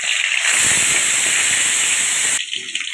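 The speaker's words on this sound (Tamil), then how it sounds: "பூண்டு வதங்கிடுச்சு." Chopped garlic sautéing in hot oil in a pan for kara kulambu gives a loud, steady hiss that cuts off abruptly near the end, leaving a quieter sizzle.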